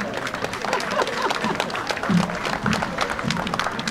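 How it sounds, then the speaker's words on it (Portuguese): A crowd claps at an outdoor parish festival opening parade in the Azores as two young performers are called to the stage, with scattered applause mixed with crowd noise and a few murmured voices. "uma salva de palmas para estes dois jovens"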